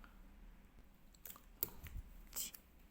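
Small scissors snip knitting yarn on a finished hand-knit piece in a few soft, quick clicks, faint and close in an otherwise quiet room.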